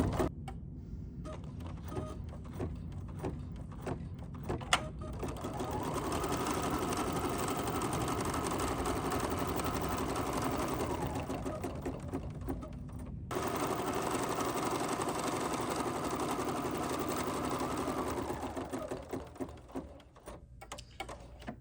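An embroidery machine stitches a placement line on a purple quilt sampler block, a steady mechanical whir running continuously for two long stretches with a brief pause between, close and fairly loud with no talk.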